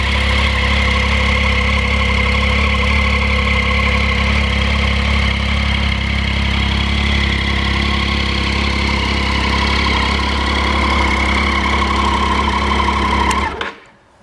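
A motorcycle engine runs steadily and loudly at high revs with a strong harmonic drone, held continuously before cutting off abruptly near the end.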